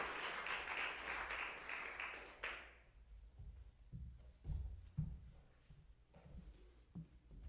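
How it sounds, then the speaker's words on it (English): An audience at a spoken word performance gives a short burst of applause, steady clapping that stops abruptly after about two and a half seconds, followed by quiet footsteps and soft thumps in a hushed room. "Give him a round of applause as he comes."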